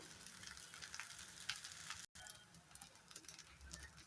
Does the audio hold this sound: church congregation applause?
no